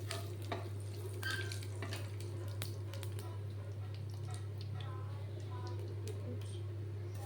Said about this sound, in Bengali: আলু ভাজার তেলের মধ্যে শুকনো লঙ্কা, গোটা জিরে আর ছোটো এলাচ দিলাম।